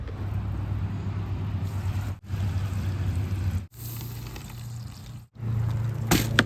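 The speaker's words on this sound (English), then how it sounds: "We'll do one more rinse and that should be good." Water pours steadily in a continuous rushing stream while rinsing a DIY tabletop mini pond, briefly cut off three times, with a low hum underneath.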